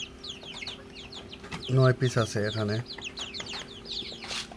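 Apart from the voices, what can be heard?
Golashila chicken chicks on a farm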